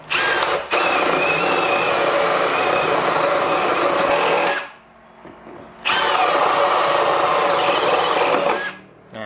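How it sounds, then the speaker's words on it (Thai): A cordless drill with a 20 mm spade bit whines loudly as it bores through 20 mm thick wood, running in two long bursts separated by a brief pause, close up with no talking. "ก็จะเห็นได้ว่ามันเจาะได้ไม่มีปัญหาอะไรนะครับ ในขนาดที่ เป็นดอกใบพาย 20 มิลนะครับ กับไม้หนา 20 มิลนะ"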